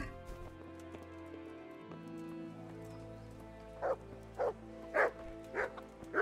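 Dogs barking in the video game Kingdom Come: Deliverance: five or six loud, close barks in quick succession over a steady droning background with faint tones, and no talking.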